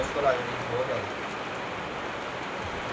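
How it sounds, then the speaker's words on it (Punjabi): Heavy rain pours down in a dense, steady hiss nearby, with a voice briefly audible at the start. "ਮੀਂਹ ਤਾਂ ਬਹੁਤ ਤੇਜ਼ ਹੋ ਗਿਆ"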